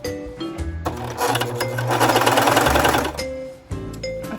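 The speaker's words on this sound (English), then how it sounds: "That is a very loud serger." A Singer ProFinish serger runs with no fabric under the foot, chaining thread: a loud, close mechanical whir rising to a fast rattling clatter for about two seconds, then slowing and stopping, with short start-stop bursts before and after.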